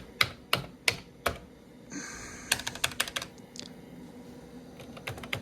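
Clicky key presses on the keyboard of a Vendex Headstart Turbo 888 XT computer, a handful of sharp taps in loose bursts with short pauses, close and alone with no talking.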